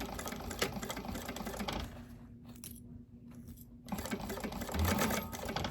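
A domestic sewing machine stitches darts in dressmaking fabric, running in steady bursts with a short pause midway before resuming, close and fairly loud with no talk.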